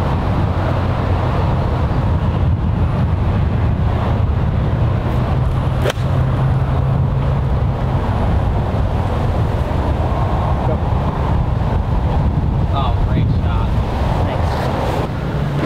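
Steady wind on a golf course, a broad continuous rush buffeting the microphone throughout, with a brief sharp click partway through and no clear voices.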